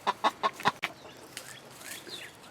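A broody hen in a chicken coop gives four close, loud, rhythmic clucks, followed by softer chirps and murmurs from other birds nearby.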